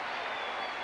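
A basketball crowd at a 1989 Iowa State vs Kansas State NCAA game applauds a free throw, a brief steady wash of clapping and cheering filling the arena.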